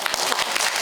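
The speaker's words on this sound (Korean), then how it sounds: "자, 다 같이 박수." Audience applause at a science lecture, dense steady clapping from a room full of listeners filling the short moment on its own without talk.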